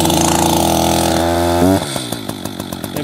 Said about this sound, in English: Continue pulling until the saw starts.